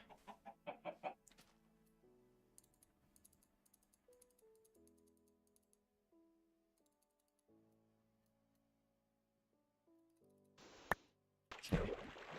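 A chicken clucks in short, rapid bursts at the start of a Minecraft game, followed by quiet in-game tones and clicks, with a louder burst of noise near the end.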